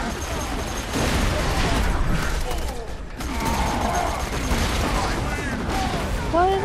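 Gunfire and a grenade blast in the Borderlands 2 shooter, a loud dense rattle of shots and booming impacts filling the whole moment with rising electronic whines near the end.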